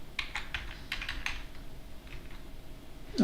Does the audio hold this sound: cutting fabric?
no